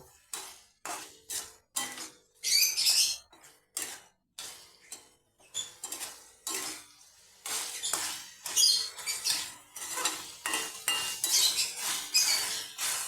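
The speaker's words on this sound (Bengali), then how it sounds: "আমি গ্যাসটা হাই ফ্লেমে করে এইভাবে একটু কষিয়ে নেব" Goat meat is stir-fried in a pot over a high gas flame, with a utensil scraping and clinking against the metal in repeated short bursts, loud and close, with no voices.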